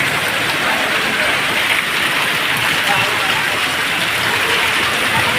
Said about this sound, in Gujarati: સાપી પંચાયતમાં ધોધમાર વરસાદ છે